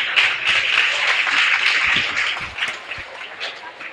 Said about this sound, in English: So please, a massive round of applause for Paul.